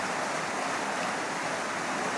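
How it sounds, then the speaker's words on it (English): Sucker Brook runs beneath a bridge in East Haddam, Connecticut, giving a constant broadband rush of flowing water that stays even and fairly close, with no voices. "the Sucker Brook running underneath it"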